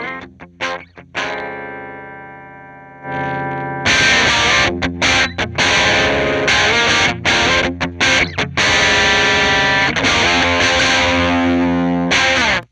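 Electric guitar through a Frost Giant Electronics Architect of Reality preamp pedal at low gain, mostly clean with slight breakup, a few picked notes followed by sustained strummed chords ringing out loud and close.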